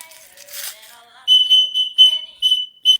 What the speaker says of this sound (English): Shut up with that stupid whistle.